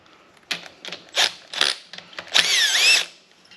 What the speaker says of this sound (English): The cordless impact tool was the greatest invention since sliced bread